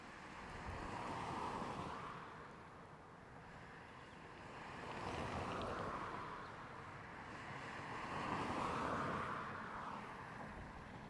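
Rolling whoosh of several cars passing on a road in slow successive swells, each rising and fading over a few seconds, steady and moderately loud, with wind-like rush and no voices.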